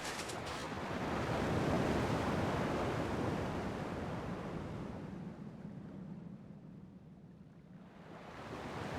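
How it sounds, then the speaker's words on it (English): Ocean surf in Kingdom Hearts II rolls in as a broad wash of waves, swelling early, then receding and fading softer before rising again, with no voices over it. "At least the waves sound the same."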